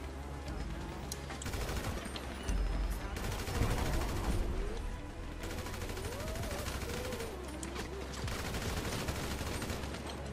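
Gunfire in GTA V's adversary mode, dense overlapping bursts of automatic fire throughout a firefight, with someone talking over the shooting.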